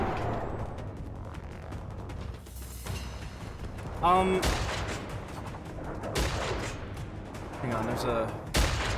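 A cyberpunk gun fires in a video game, with several sharp shots scattered across the clip. Someone talks over the gunfire.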